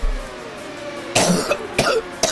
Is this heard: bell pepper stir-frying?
no